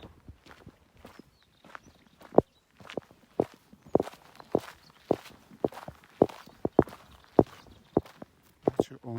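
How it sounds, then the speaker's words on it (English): Close footsteps of a walker on the Camino trail in Spain land in a steady, even rhythm, each step a crisp crunch of boot on the path, with no talk over them. "That's your own footstep."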